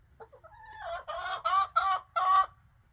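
A hen clucks and complains before laying an egg in a backyard chicken run, a string of loud, close, drawn-out squawking calls rising in bursts with no talk over them.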